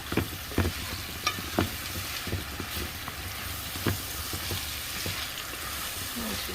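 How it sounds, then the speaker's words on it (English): A bean stew made with leftover palm nut soup is stirred in a pot, giving a steady wet sizzle broken by soft scraping knocks of the spoon, heard up close with no talking. "Stir it up."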